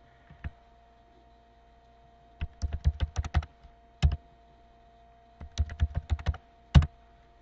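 Computer keyboard typing a username and password into login fields, heard as short bursts of close, crisp key clicks separated by pauses, with no talking.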